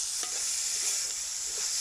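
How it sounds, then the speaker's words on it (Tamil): Chopped tomatoes frying in oil after ginger and garlic for a soya chunk gravy, with a steady bright sizzle under a few soft scrapes of a spoon stirring the pan, close and continuous. "தக்காளி வதங்குற வரைக்கும் கிண்டி விடுங்க."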